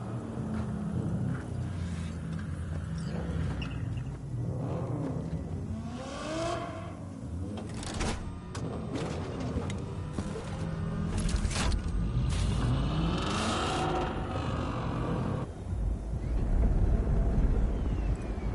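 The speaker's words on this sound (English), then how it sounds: "Start your engines, folks." Car engines rev and whir in a Cyberpunk 2077 desert convoy, with a busy, continuous engine roar throughout and rising sweeps from accelerating vehicles, fairly loud and steady to the end.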